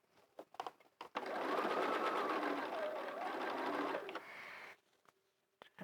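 A sewing machine stitches fabric for a hat in one continuous, fast, whirring run of about three seconds, close but fairly quiet, with a few soft handling taps before and after.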